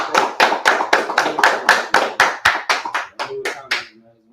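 About a dozen sharp hand claps in a steady rhythm, close and loud, slowing and softening toward the end before falling silent.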